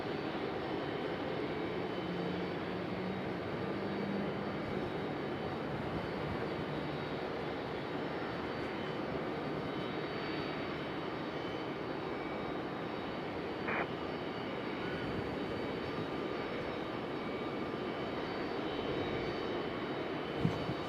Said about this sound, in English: JetBlue pushed back and out to the starting line there.